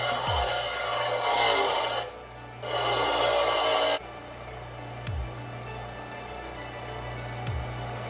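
A steel dagger blade is sharpened by hand in scraping, rasping strokes that run in long bursts with short pauses, close and fairly loud, with a few light knocks between passes.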